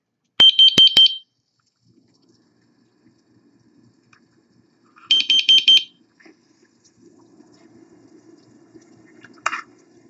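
Carbon monoxide detector alarm set off with its test button: two bursts of rapid shrill high-pitched beeping, loud and close, then a faint low hum and a short chirp near the end. No talking.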